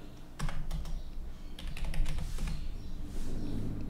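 Fingers typing a title on a computer keyboard, a close run of quick clicky keystrokes in irregular bursts with short pauses, no talking.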